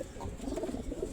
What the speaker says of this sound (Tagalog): Sobrang bait ng ibon.